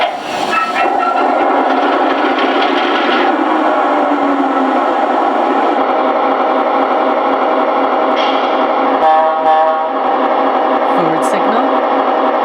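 An MTH Premier LIRR C Liner model locomotive starts up with a steady diesel-style rumble and hiss, a loud continuous drone with some clanks and shifts partway through.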